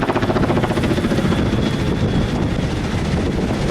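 Chinook twin-rotor helicopter flying near Norfolk, Virginia, heard from a sailboat: a loud, steady rhythmic rotor thumping that pulses evenly throughout, mixed with heavy wind rumble and no voices.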